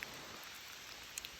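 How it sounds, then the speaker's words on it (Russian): Steady rain falls on a mountain serpentine road in Laos in the evening, a continuous even hiss with a couple of faint drip taps, moderately quiet and without voices. "А теперь дождь идет."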